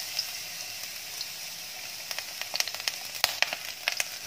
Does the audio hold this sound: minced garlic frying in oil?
yes